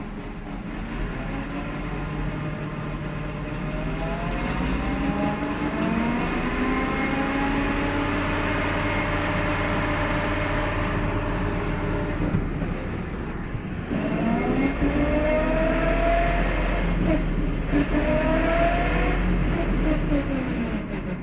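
A steady mechanical howl with rising and falling whine from a Chevrolet Niva drivetrain straining in second gear, differential lock off, as one wheel spins, over a low engine rumble; no speech.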